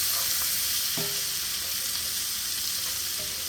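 Mushrooms and onions frying in a pan give a steady, close hiss of sizzling, with a few faint stirring scrapes and no voices.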